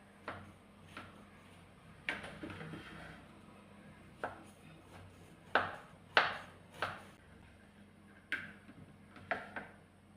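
A knife slices through a homemade coconut bun, striking the board in about a dozen sharp, close knocks spaced irregularly across quiet pauses, with no talking.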